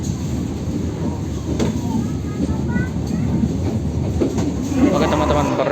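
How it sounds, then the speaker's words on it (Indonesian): KA Cikuray passenger train pulling into Kiara Condong station in Bandung, a steady loud rumble with wheel rattle and faint squeals heard from on board, continuous throughout with a voice talking over it. "perjalanan kereta api Cikuray masuk stasiun Kiara Condong dan mengakhiri perjalanan di sini"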